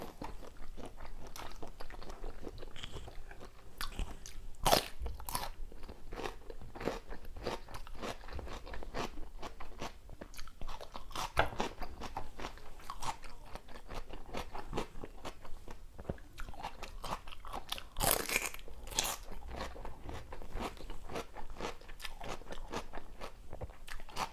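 Raw river prawns crunched and chewed up close, with a steady run of crisp bites, cracking shells and wet mastication sounds, loud and without talk throughout.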